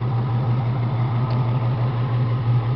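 A red Ford Mustang GT with a five-speed manual sits idling, its engine giving a steady, deep, even rumble up close with no other sounds.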